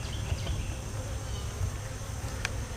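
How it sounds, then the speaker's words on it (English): Honeybees swarm and drone in an open hive box during a queen inspection after mite treatment, a dense, steady close-up hum that carries on without pause or voices. "So nice box of bees"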